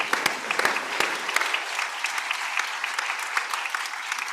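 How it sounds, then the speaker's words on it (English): A conference audience at a plenary session of the International Forum on Migration Statistics breaks into sustained applause, a thick, even patter of many hands clapping at moderate loudness throughout. "Please join me in a round of applause."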